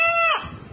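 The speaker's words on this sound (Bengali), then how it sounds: "মোরগের কণ্ঠে শোনা যাচ্ছে আল্লাহর নাম" A rooster in Bandar, Narayanganj, gives a short, loud, close crow with a strained rising pitch, cut off after less than a second.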